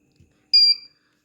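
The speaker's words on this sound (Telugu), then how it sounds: "ఒక బీప్ లాగా వచ్చింది." A single short, high-pitched electronic beep from a buzzer wired into a touch sensor project with an LED, loud and clean in near silence after a faint tap.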